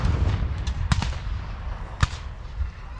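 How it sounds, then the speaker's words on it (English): Confederate cannons fire at a Civil War reenactment in Decatur, Alabama: two sharp, booming shots about a second apart ring out from a moderate distance over steady outdoor background noise. "the Confederates just shot another cannon shot, and a bigger one"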